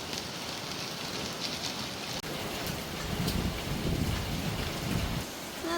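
Rain falls steadily in a continuous hiss with soft pattering drops, a low rumble swelling midway beneath it and no voices.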